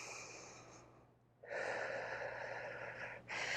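A deep breath during a Pilates arms and shoulders workout: a long, airy inhale, a short pause, then another breath starting, soft and close with no talking.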